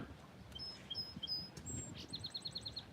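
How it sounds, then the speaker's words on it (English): A bird sings in short high chirps, ending in a quick run of repeated rapid notes, faint and somewhat distant over a soft outdoor rumble. "That's what the bird is saying right now."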